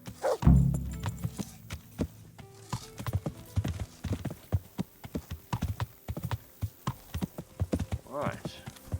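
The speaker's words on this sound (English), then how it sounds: "There is my trusty horse." Rhythmic clip-clop of horse hooves in the video game Kingdom Come: Deliverance, a steady run of close, distinct hoof strikes under someone talking, with a brief horse snort near the start.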